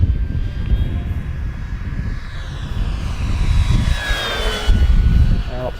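A radio-controlled Mustang model plane flies past outdoors, its engine whine rising and shifting in pitch as it sweeps by at moderate distance, with someone talking throughout.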